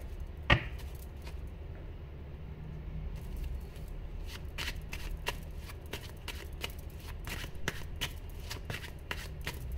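A deck of tarot cards is shuffled close up, giving repeated soft riffling and flicking bursts in an irregular rhythm over a low room hum, with no speech.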